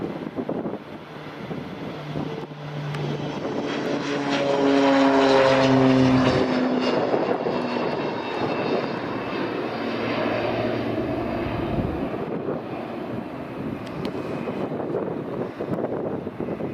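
A King Air turboprop plane at Aberdeen Dyce Airport drones loudly with a rising propeller whine and buzzing engine tones as it powers down the runway, heard outdoors amid gusts of wind on the microphone.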